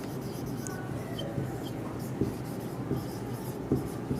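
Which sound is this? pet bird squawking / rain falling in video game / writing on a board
writing on a board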